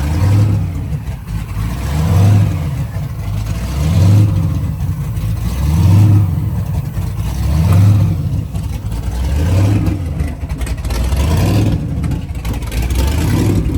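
A 1969 Camaro with a supercharged big-block V8 on electronic fuel injection runs close by with a deep, lumpy idle that swells and fades in a slow, regular rhythm about every two seconds, with no talk over it.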